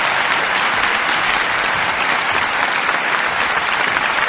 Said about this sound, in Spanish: Si lo cree, apláudele al Señor.